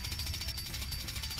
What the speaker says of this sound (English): Now it's the move drill.